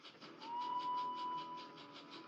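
Edward's steam engine whistle sounds as one steady, sustained tone at a moderate distance over a rhythmic rumble of rolling wheels, with no voices.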